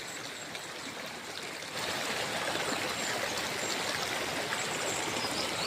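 Hot spring water at Barangay Bukal flows in a steady, soft rush, growing noticeably louder partway through and then holding an even, continuous hiss with no voices.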